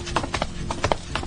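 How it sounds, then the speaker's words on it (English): A walking sound effect in a video series resembles horses galloping, with rapid uneven clip-clop hoofbeats at moderate loudness and no talking. "the walking sound effect that they use sounds like horses galloping"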